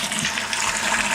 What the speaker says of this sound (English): I'm now going to pour 1 litre of hot water into my jug,